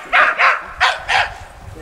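A herding dog barks at reindeer, four sharp, close barks in two quick pairs, loud and distinct with a short pause between the pairs.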